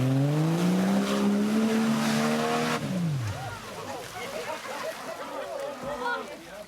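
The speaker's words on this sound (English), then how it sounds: "Drive through a few gates and then simply drive through a little muddy hole, as the Jeep Grand Cherokee of Wally Volmerens and Tini Mini" Jeep Grand Cherokee engine revving and straining as it drives through gates and a muddy hole at a 4x4 club challenge, loud at first then fading into spattering and churning, with a voice talking over it.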